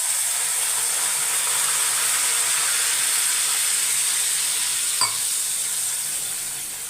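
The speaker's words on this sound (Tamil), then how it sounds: "கடலப்பருப்பும் உளுத்தம்பருப்பும் பாதி பொறிஞ்சால் போதும்" Chana dal and urad dal fry in oil in a pan, giving a steady, even sizzle throughout, with one sharp clink of a utensil near the end.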